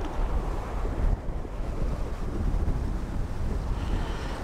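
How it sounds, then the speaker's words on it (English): Wind gusting across an open hillside near La Grande, Oregon, a steady broad rush buffeting the microphone, loud and close, with no voices. "Oh, the wind is picking up. It's pretty breezy up on this hillside."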